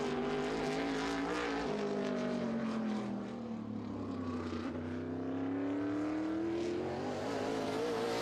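Tim Lahar's number 20 modified race car on a qualifying lap, its engine note rising and falling through the turns, a single loud, steady snarl that swells and sweeps in pitch as the car circles the track.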